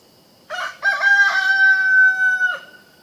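A rooster crows once nearby in a chicken pen, a loud drawn-out call of about two seconds, ringing clearly with no other voices.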